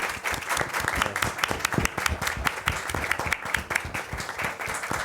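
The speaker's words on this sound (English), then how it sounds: "And I want you guys to clap it up" An audience at an adapted sports inclusion event claps in a steady, close round of applause, many hands beating irregularly and continuously with no voices over it.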